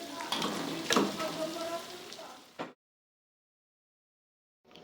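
Steady sizzling and crackling of scad (ikan cencaru) frying in sambal in a pan, close and continuous, then it cuts off into silence.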